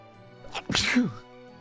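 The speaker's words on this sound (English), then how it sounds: "I'm gonna sneeze" A single human sneeze, close and loud, with a short inhale leading into the burst, then quiet.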